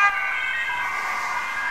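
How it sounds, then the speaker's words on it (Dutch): A siren wails steadily on a blue BMW, a continuous loud tone heard clearly with no talk. "Een blauwe BMW met een sirene."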